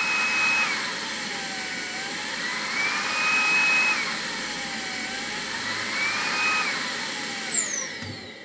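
A Makita 40v CL001G cordless stick vacuum whines steadily, its motor pitch sweeping up and down in repeated glides as it steps through its speed modes, close and alone.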